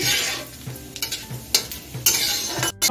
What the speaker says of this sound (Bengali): ফোড়নটা একটু ভেজে নিচ্ছি